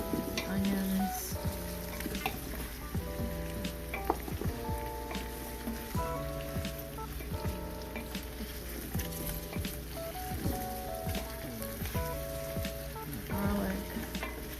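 Onions fry in a pan with a steady, dense sizzle that runs throughout, broken by occasional clinks and scrapes of utensils, with no talking over it.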